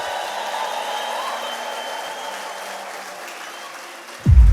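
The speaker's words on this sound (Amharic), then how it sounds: "ታላቅ እልልታ፣ ጭብጨባ፣ ምስጋና ታመጣል።" A large church congregation applauds in a steady, sustained wash of clapping, ending with a sudden loud low thump close by.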